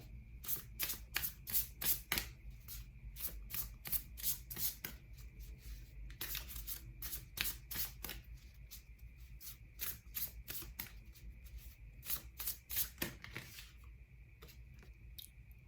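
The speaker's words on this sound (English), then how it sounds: "I'll pull from the Animal Spirit card deck" A tarot deck of Animal Spirit cards is shuffled by hand in a long run of crisp riffles and flicks, quiet and close, with no talking.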